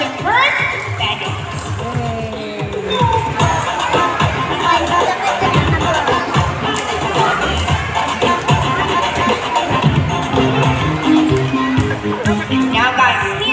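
A crowd at a bird show cheers and claps for a trained bird, a busy, sustained wash of voices, shouts and scattered claps with children among them, and talking running throughout.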